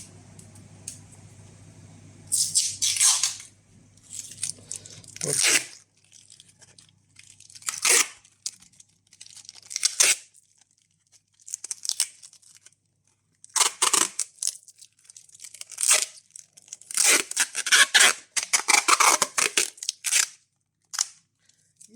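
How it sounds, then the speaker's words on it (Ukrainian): Packing tape pulled off the roll in repeated loud ripping bursts and wound around a box being packed for shipping, close by, with short pauses between pulls and no speech. "І замотуєте скотчем прямо"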